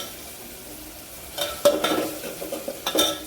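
Spices and turmeric stirred in a hot frying pan for a tempering of tangy moong dal varan: quiet at first, then scraping stirs with crackly sizzling bursts, close and moderately loud.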